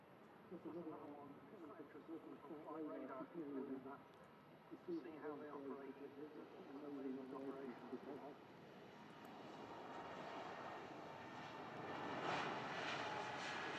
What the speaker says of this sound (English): KLM E2 heading back to Amsterdam Schiphol in the Netherlands